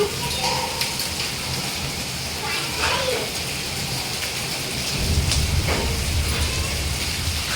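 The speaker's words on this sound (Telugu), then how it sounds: "వర్షం, వనగండ్ల వర్షం పడుతుంది." Hailstones and heavy rain pour down in a hailstorm, a steady dense patter with sharper impacts, bursts of thunder-like rumble and excited voices talking over it throughout.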